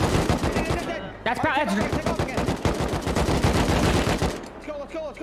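Rapid bursts of gunfire from a firefight in the survival game Rust, dense repeated shots from near and far, with voices talking excitedly over the shooting.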